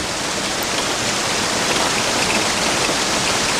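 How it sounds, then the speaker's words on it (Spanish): Floodwater and heavy rain at the start of a 1996 flood in Spain, heard from inside a camper van: a loud, dense, unbroken rush of water and rain that fills the whole clip without a pause. "Un turista filmó el inicio de la inundación a través de la ventana de su casa rodante."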